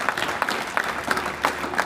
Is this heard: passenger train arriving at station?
no